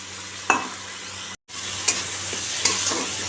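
Onion, green chili and tomato frying in oil for a rohu fish curry, a steady soft sizzle with a few stirring scrapes and a brief break in the sound.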